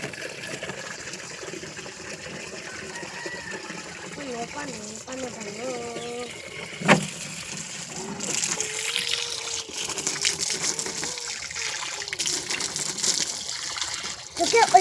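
Tap water pouring and filling a container in a home, a steady, moderately loud rush that rises later, with people talking over it.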